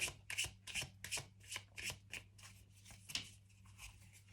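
Tarot cards are shuffled by hand, giving a close, crisp series of rapid riffling bursts in a steady rhythm, quiet and with no talking.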